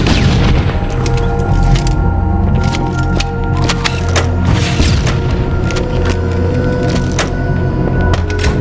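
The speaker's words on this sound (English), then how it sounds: "Let's use the rocket launcher to kill all of the flood in this area." Rocket launcher fire against the Flood in Halo: Combat Evolved, with heavy booming blasts and cracking explosions over a dense, continuous wash of loud game combat noise.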